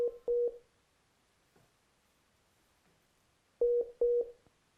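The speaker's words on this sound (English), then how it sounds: "I thought no one uses this ringtone anymore." An old-style phone ringtone during a call-in on an Islamic Q&A broadcast: two short double bursts of an electronic ring, separated by a long quiet gap, fairly loud and alone.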